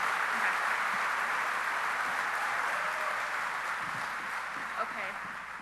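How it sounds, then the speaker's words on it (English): An audience at a convention applauds with a dense, steady wash of clapping that fades slightly toward the end. "Have a nice round of applause for Miss Kamy Kolb."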